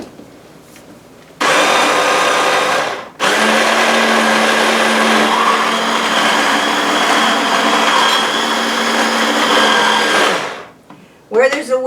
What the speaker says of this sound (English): But let's blend them up again.